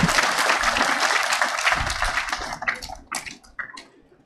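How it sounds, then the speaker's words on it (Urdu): Applause from a crowd at a Pakistan Sweet Home Independence Day event with the Prime Minister present, a dense burst of clapping that thins into scattered claps as it fades. "تالیاں لگائیں۔"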